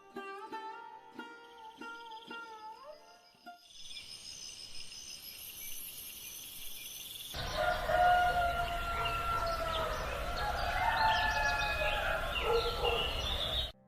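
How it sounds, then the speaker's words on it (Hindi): Morning birdsong fills a quiet rural setting: first sparse tonal chirps, then a denser chorus of overlapping calls and trills, moderately distant, with no voices. "बस पक्षियों की मीठी चहचहाहट वातावरण में गूंज रही थी।"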